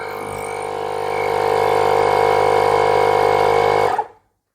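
A Milwaukee M12 cordless air pump set to 35 runs with a loud, steady mechanical drone and whine, holding constant for about four seconds before cutting off abruptly, with no talking.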